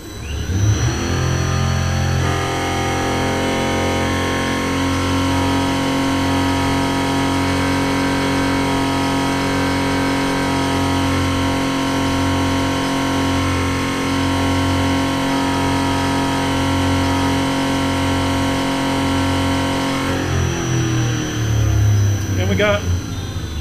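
A diesel engine held steady at 2700 RPM during a modified CP3 pump test, giving a loud, even, unbroken mechanical drone for about twenty seconds before it shifts at the end.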